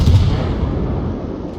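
Naval gunfire in a warship video game: one heavy, loud, close cannon boom with a long low rumbling decay that fades over about a second and a half.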